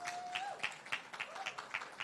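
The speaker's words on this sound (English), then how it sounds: "Round of applause." A round of applause from an audience at a Jamaican festival event after a speaker introduction, brief scattered clapping under a faint tonal sound, with some voices mixed in.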